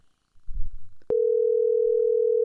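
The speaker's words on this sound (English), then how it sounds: "There we go. It's ringing." An outgoing phone call rings on the line: after a soft thump and a sharp click, one loud, steady electronic tone starts and holds unbroken to the end.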